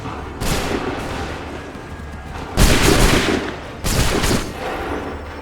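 Musket volley fire in the video game Assassin's Creed 3: a crackling battle din, then two loud, sharp massed volleys about a second apart.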